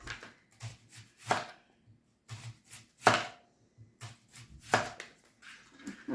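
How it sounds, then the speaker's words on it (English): A knife slices through half an onion on a cutting board, with sharp, irregular strokes separated by short pauses and soft knocks of the blade against the board, close and clear. "Now we're only going to use half of this onion. And let's slice it."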